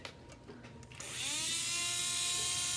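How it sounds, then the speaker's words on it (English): A utility lab burr cuts into the plastic of an Essix orthodontic retainer. After a second of quieter background, a high, steady whine starts up and holds loud and close to the end, with no talking. "I tend to like using the burr better. So just a utility lab burr."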